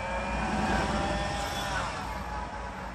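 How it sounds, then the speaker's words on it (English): Car traffic on a crowded road in Gatlinburg on a Friday afternoon, a steady low engine rumble and road noise heard from inside a vehicle, fairly quiet and continuous. "So here I am in traffic again."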